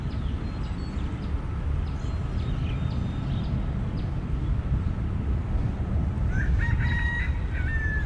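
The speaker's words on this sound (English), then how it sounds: "I see the chicken that was calling" A chicken calls from beside a creek, with a rooster's crow and clucks heard faintly at a distance against a steady wash of outdoor noise, the calls growing clearer toward the end.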